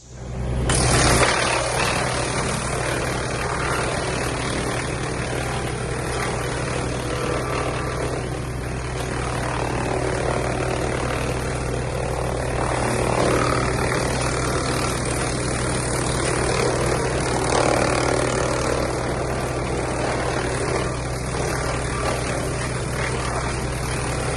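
A wood chipper with hydraulic reverse runs continuously while clearing large maples, a loud steady engine drone with a constant grinding roar and no voices.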